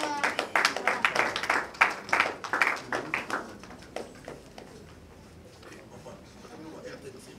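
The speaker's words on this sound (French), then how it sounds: "Sous vos applaudissements, mesdames et messieurs." Audience applause at an award ceremony presenting trophies to artists and comedians, a crowd clapping in loud bursts for about four seconds before fading into quieter room noise.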